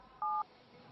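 One short, clear keypad tone as a number is dialed on a phone to place a call, a single brief beep over faint room hiss.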